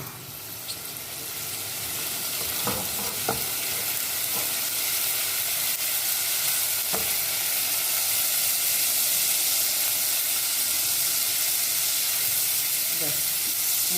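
Vermicelli roasting in a pan for sheer khurma, a steady broadband sizzle and hiss with a few faint stirring clicks, continuous and close throughout.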